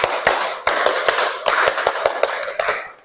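Rhythmic hand clapping of the Indonesian 'tepuk konsentrasi' clap chant by a group, sharp claps in short patterned bursts repeating over about three seconds, loud and close with no voices.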